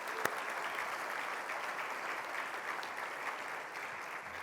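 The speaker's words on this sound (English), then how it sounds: "Let's give our teachers and educators a round of applause" An audience claps for teachers and educators at a play equity summit, a steady wash of applause sustained throughout, moderately distant and even, with no voices over it.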